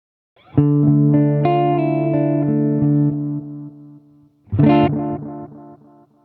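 An electric guitar through a Boss DD-200 delay pedal plays a phrase that rings out and trails off, then a second struck chord follows, with a slightly gritty, repeating tail.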